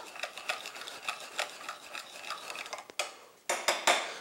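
A cayenne pepper, black pepper and salt marinade being mixed in a bowl, giving a series of quick scraping, rubbing clicks with utensil taps, getting louder and sharper toward the end.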